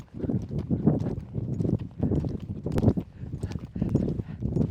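Horse hooves on soft ground shift from an even walking beat into a quicker rolling lope, steady rhythmic thuds close by with no talk over them.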